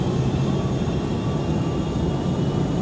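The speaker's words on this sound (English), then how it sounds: "On takeoff, the 757 performed perfectly." An Aeroperú Boeing 757 jet airliner on its takeoff roll, a steady, loud broadband roar of jet engines with a low rumble, unchanging throughout and no speech.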